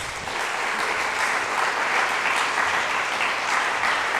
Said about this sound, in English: Please give Richard Maussan a round of applause.